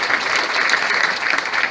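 An audience of Italians in Mexico applauds an ambassador, a dense, continuous burst of clapping at close range with no talking.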